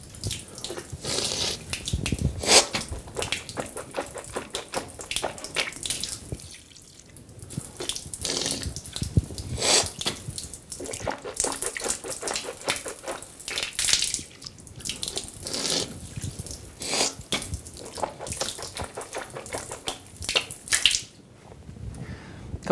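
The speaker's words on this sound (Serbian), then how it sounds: "jednim uzimanjem vode smo uzimali vodu za usta, drugu polovinu smo ušmrkivali u nos" Tap water runs steadily into a sink during ritual ablution, with repeated splashing and gurgling bursts as water is taken into the mouth and nose, continuous and fairly close, with no talk.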